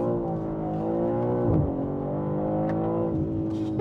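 A reprogrammed BMW M3 Competition xDrive engine pulling hard, heard close and loud as a sustained, harmonically rich drone that shifts pitch slightly, with no voices.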